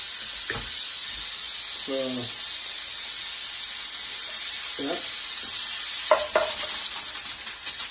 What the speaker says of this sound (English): I'm gonna get my coconut milk in now.